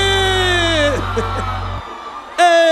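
A live audience at a music show yells and whoops in a loud, sustained, overlapping roar that briefly dips and then surges again.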